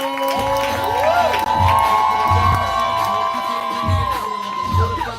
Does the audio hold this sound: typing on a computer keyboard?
no